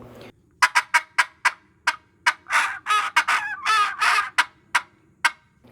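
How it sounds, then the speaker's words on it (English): A Thunder Series turkey call makes a string of gobbles, close and loud, in quick bursts, some single sharp notes and some longer rattling runs, with nothing else heard. "To gobble on it, you just you can double gobble, triple gobble, single gobble"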